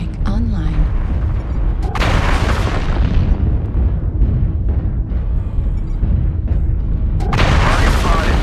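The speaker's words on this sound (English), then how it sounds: "Artillery strike online." Artillery strikes in a video game with trebuchet light particle projector cannons and an autocannon: heavy booming explosions, with a sharp burst near the start and another late, over a continuous rumbling mix.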